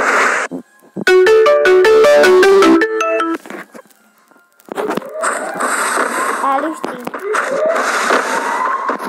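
A phone ringtone chimes loudly and close as a melodic run of tones for a couple of seconds, then gives way to noisy game sounds during Free Fire gameplay.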